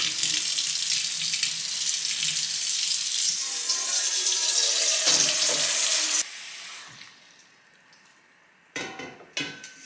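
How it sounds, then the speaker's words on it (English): Hot water runs hard from a kitchen tap as a stuck gelatin mold is warmed for a Christmas dinner, a loud steady rush that cuts off partway, followed by quieter trickling and a few clunks and splashes near the end. "Now we have to give it a bath in like hot water, warm water, and then we'll see if it unsticks."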